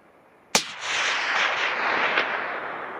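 A single sharp crack from a 16-inch Tikka .308 rifle firing factory ammunition while red deer hunting in the Ruahine, loud and close, followed by a long rolling echo across the hills with a faint second report near the end.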